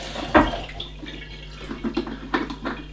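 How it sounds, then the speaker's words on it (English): Water rinsing the outside of a Lay Z Spa hot tub filter housing: a brief splash near the start, then soft intermittent trickling and spattering, close and fairly quiet. "And then you just give the quick outside a rinse."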